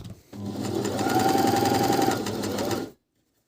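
A Minerva M2000C coverstitch machine runs steadily at close range for about two and a half seconds with a dense, even mechanical whir, then stops abruptly into silence.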